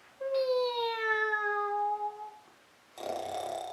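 A voice imitates a cat meowing in a long, drawn-out, falling meow in a children's animal story, clear and close, followed after a pause by a short burst of noisy breath.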